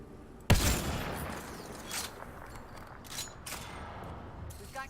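Sniper gunfire in Mass Effect Andromeda, a single loud, sharp shot followed by a reverberant boom, then a few fainter distant shots and echoes over a steady battlefield ambience.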